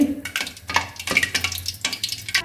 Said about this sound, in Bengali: এভাবে আমি বাকি বেগুনিগুলো ভেজে নেব।